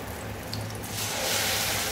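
Slurry-dipped eggs dropped one by one into hot oil for egg chilli, giving a steady sizzling hiss that grows louder partway through, with no one talking.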